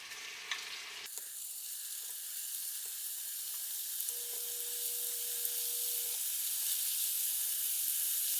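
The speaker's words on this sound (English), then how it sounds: "We've got a little sizzle going there." Steady, bright sizzling of chicken meatballs frying in a hot pan, a continuous crackling hiss that grows slightly louder, with a faint tone partway through.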